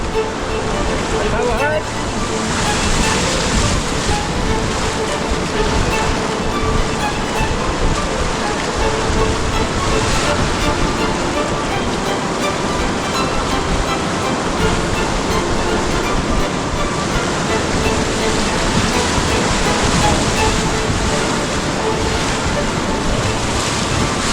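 Loud, continuous roar of big whitewater rapids and standing waves on a high-running river, heard from a canoe, with wind buffeting the microphone and faint voices underneath.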